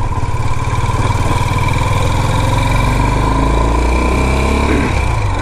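A motorcycle with a sidecar idles loud and close, a steady, throbbing engine note that holds for the whole stretch with no talking.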